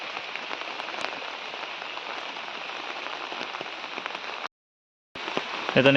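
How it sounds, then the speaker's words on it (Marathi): Steady rain patters on a surface, a dense continuous hiss that cuts out briefly near the end, then returns. "पाऊस आहे चालू झाले"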